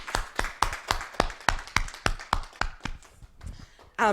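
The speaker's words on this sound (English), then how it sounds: "Let's have a wee round of applause for our speakers." A small audience at a career panel discussion claps for the speakers: a dozen or so distinct, fairly sparse claps in an uneven rhythm that slows and fades, with a brief voice at the end.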